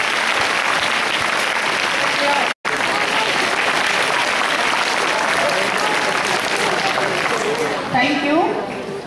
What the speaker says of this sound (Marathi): आपण टाळ्या वाजवून या ठरावाचं स्वागत करूया।